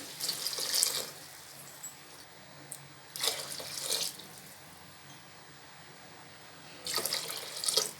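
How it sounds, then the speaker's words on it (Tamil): Water pours into a pressure cooker for vegetable biryani in three separate splashing bursts with quiet pauses between them, close and moderately loud, with no talking. "இப்போ 3 டம்ளர் அளவு நான் தண்ணி சேர்த்துக்கிறேன்"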